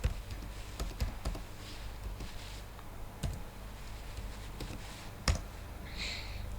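Java code being typed on a computer keyboard: a quiet scatter of soft, irregular key taps with a few sharper clicks, close by, over a low steady background hum.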